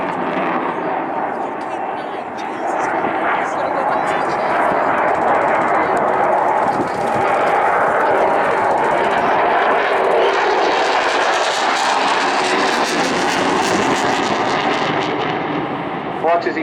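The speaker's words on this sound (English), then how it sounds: "Watch as he pitches the aircraft up another fast loop" An RAF Typhoon FGR4 jet roars through high-g aerobatic loops at the Blackpool Airshow, its engine noise loud and sustained with a sweeping rise and fall in pitch as it pulls up, while a commentator talks over the display.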